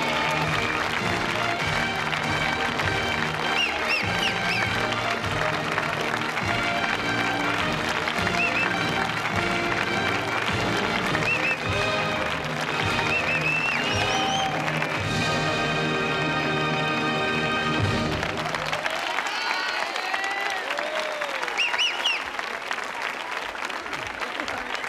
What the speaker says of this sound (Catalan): anem a rebre amb un aplaudiment el nostre convidat d'avui, Terenci Moix.